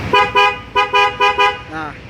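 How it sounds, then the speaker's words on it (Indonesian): A Denso waterproof car horn on a custom police escort-style vehicle gives six short, loud toots in a quick uneven rhythm, followed by a softer, wavering final tone. "Nah, ini klaksonnya klakson Denso waterproof."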